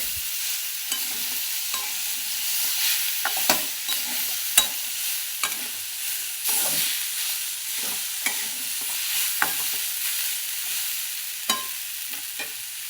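Dry chickpea curry with kasuri methi sizzling steadily in a pan while being stirred, with a continuous frying hiss and repeated soft scraping knocks of the spoon, close up and without talk.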